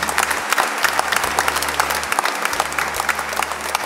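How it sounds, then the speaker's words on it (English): A church congregation at a Lenten retreat claps together in a steady, even rhythm, a dense burst of applause heard alone over a low, constant hum. "Let's give a mighty clap to the Lord and worship the Lord."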